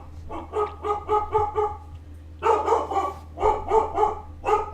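A dog barks repeatedly in rapid, rhythmic volleys, pausing briefly before a louder burst of barking resumes, heard over a constant low electrical hum with no talking.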